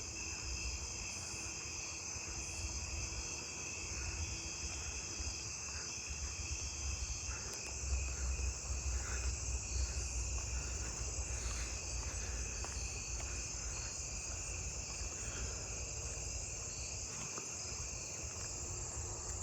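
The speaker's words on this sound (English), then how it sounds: "I'm hearing more fall field crickets" Fall field crickets chirp steadily in a continuous outdoor chorus, with overlapping high insect trills and no voices.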